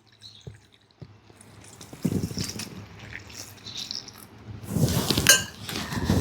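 Hot water poured over freshly picked aghada (prickly chaff flower) greens in a vessel for washing, a splashing, trickling pour that swells in two bursts of loud sloshing with drips between, with no voices.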